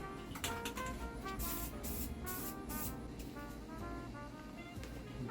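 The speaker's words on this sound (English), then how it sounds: "So by the time you sprayed one shoe, you can spray the other shoe." Steady hissing spray from an aerosol can painting shoes, continuous and fairly close, with brief sharper bursts of spray over a constant rushing noise.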